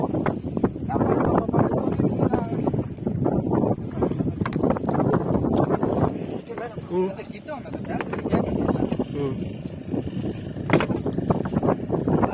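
Strong sea wind buffets a fishing boat, roaring and gusting against the microphone throughout, while someone talks over it in Tamil.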